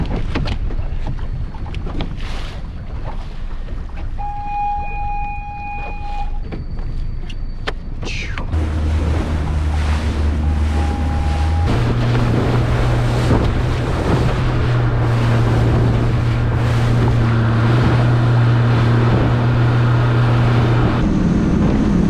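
Strong wind buffets the microphone while waves slap and splash against a moving motorboat, with its motor droning steadily underneath.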